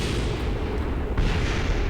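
Explosions in the video game Kerbal Space Program make a loud, dense rumble of booms, with a sharper burst partway through and no talking.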